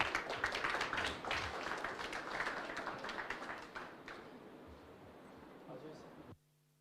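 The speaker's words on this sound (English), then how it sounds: "Can we have a round of applause for them?" An audience at a live student showcase claps: dense, steady applause mixed with voices, gradually thinning out before cutting off abruptly.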